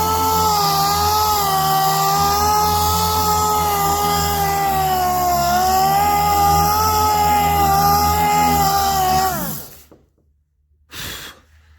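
A power sander works over a hail-dented car hood at low speed, giving a loud, steady whine with a strong tonal hum that wavers slightly before cutting off abruptly, followed by a brief burst of noise.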